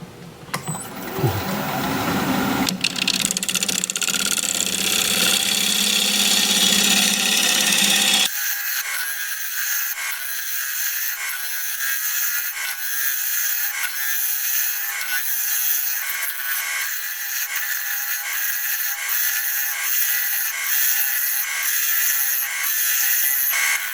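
Apricot wood scraped on a lathe gives a loud, continuous rasping hiss, harsher and fuller at first, then settling into a steady, thinner scraping with a regular faint rhythmic pulse.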